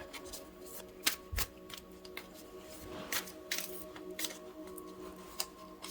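Tarot cards shuffled and drawn by hand during a reading, a series of soft riffling flicks and crisp card snaps in quick irregular bursts, close and quiet, with no voice.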